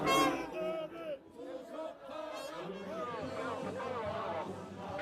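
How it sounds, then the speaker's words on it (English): A protest crowd at a barricade before the presidential office in Seoul chants and sings, with many voices blending into a loud, continuous roar of rhythmic shouting and overlapping chatter. "the crowds here are making their voices heard through chanting and singing"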